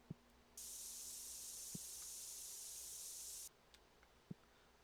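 In TCG Card Shop Simulator, a spray gives one continuous hiss of about three seconds that starts and stops abruptly, with a few soft clicks before and after and no voices.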